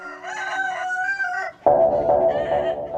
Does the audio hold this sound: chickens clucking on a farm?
yes